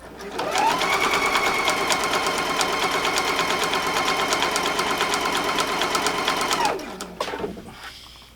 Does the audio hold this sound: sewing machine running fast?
yes